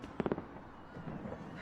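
Fireworks in a zombie film scene burst in a quick cluster of sharp cracking pops, followed by fainter scattered crackles and rumble in the background.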